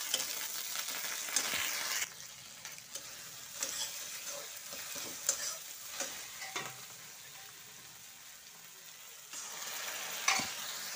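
Dal tempering sizzling in a pan while Odia dalma is cooked, a continuous soft frying hiss with occasional stirring scrapes, fairly faint and steady, with no talking.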